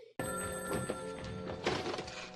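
A telephone rings loudly and continuously with a harsh, bright bell-like tone after a short quiet start, close by and without voices.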